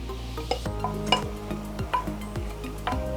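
Shrimp going into a pan of chicken cooking for egg rolls, giving soft sizzling with clinks and scrapes of stirring against the pan, close and steady with no talk.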